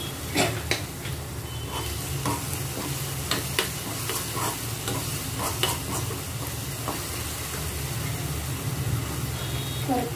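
Batata vada potato filling is stirred in a pan over heat, a dense continuous sizzle and scraping with scattered utensil knocks, loud and close throughout with no talking.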